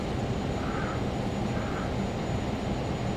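The engines of a Learjet 35A taxi in the flight simulator game MSFS 2020, giving a steady, even jet roar with a thin high whine running over it throughout, with no talking.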